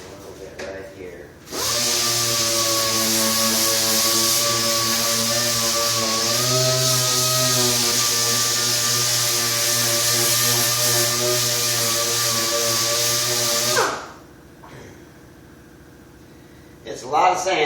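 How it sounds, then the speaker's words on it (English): A power tool runs steadily for about twelve seconds while sanding a metal cyclekart wheel disc in a workshop, a loud sustained whine that starts and stops abruptly with quieter room noise on either side. "It's a lot of sanding."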